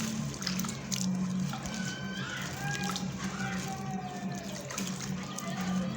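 Running water washing wheat inside a nylon bag to draw out the starch, a steady close splashing and trickling that lasts throughout, with a faint voice talking in the background.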